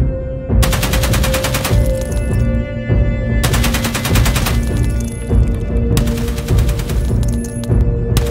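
Bursts of AKM rifle fire in the game Escape from Tarkov, loud and close, with three long sustained automatic strings separated by brief pauses and no talking.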